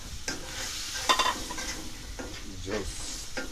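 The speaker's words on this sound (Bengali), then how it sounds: "এখন হচ্ছে মাংসকে কষানি হবে, হালকা করে কষানি হবে নির্দিষ্ট তাপমাত্রায় রেখে" Meat being stirred and fried in curry at a steady heat, with a continuous close sizzle broken by several scraping stirs of a spoon against the pan and a few light clinks.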